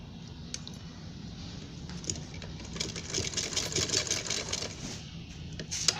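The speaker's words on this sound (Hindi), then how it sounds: "आहिस्ता से मशीन को चलाना है और वहीं रोक के रखना है" A sewing machine stitches honeycomb smocking, running slowly in short, faint bursts of rapid needle clatter over a quiet room hum.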